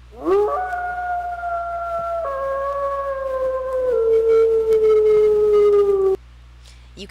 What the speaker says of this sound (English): You can howl.